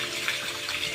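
Falling water at a dam viewpoint in hilly, tree-covered country: a steady, dense rushing wash that holds at an even level throughout, with no voices.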